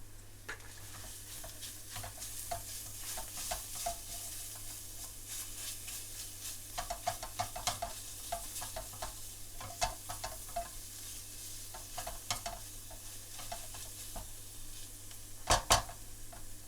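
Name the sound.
frying onions with salt, chillies, ginger and garlic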